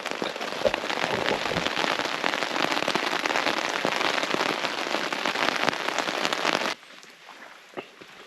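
Rain drumming on a tent during a solo backcountry camping trip in Tonquin Valley, a dense close patter that stops abruptly, leaving a quiet stretch with a single drip.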